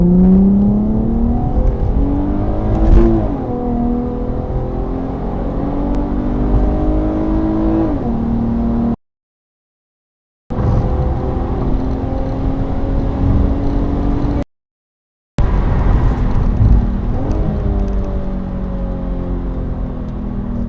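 A supercar accelerates hard during a police chase, its engine revving up through repeated rising sweeps, loud and continuous, broken by two brief silent gaps.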